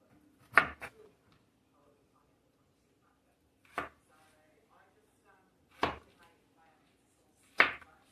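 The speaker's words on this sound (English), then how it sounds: "If the sound of this chopping is bothering you, I'm sorry." Four sharp knife chops on a cutting board while preparing bratwurst stew, spaced a couple of seconds apart, crisp and close with quiet gaps between.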